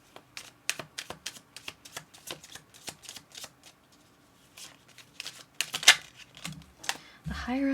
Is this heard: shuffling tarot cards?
yes